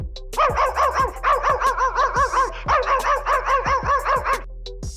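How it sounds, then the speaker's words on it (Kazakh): A dog barks in a fast, steady series of sharp, loud barks close by, with a short pause partway through and no voices. "Ит."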